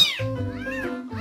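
A young kitten meows close up, several short, high, wavering cries in quick succession with brief gaps, clear and fairly loud with no talking.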